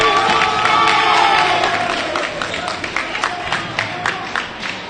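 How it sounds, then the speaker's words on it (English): Spectators in the Purdue gym at a men's volleyball round-robin match roar and cheer loudly, the noise swelling then breaking into scattered claps and shouts as it fades. "That got the crowd going here in the"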